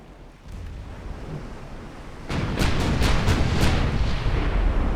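Warship main guns firing in Ultimate Admiral Dreadnoughts, a 1905 Japanese naval battle: quiet rumble at first, then from about two seconds a string of heavy, booming salvos, five or six close together, loud and rolling.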